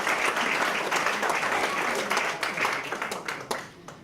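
Audience applause at an inauguration event for a Jewish studies program, greeting students in the room: dense, steady clapping from a crowd, fairly close and sustained, tapering slightly near the end.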